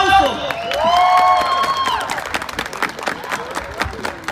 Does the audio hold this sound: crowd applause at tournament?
yes